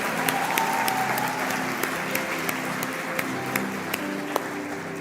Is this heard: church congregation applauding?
yes